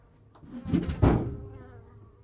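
A guard honey bee buzzes around a beehive, its whine swelling as it passes close and then fading away in a single brief flyby.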